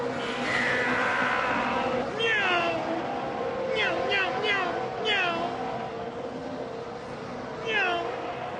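At a Formula 1 race, a fan's voice imitates a Formula 1 car into a microphone, making several short rising and falling whining bursts over a steady background hum.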